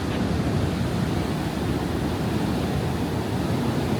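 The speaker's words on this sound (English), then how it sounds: "Really high waves." High sea waves crash on Levante beach in Benidorm, producing a dense, continuous roar of surf mixed with wind noise, loud and unbroken with no talk.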